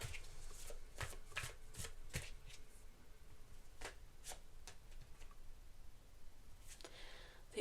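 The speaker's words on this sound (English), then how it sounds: "Oops, and the cards are falling." Tarot cards spill and are shuffled by hand, giving a run of sharp, close riffling bursts and soft slaps spread unevenly across the stretch, with no talking.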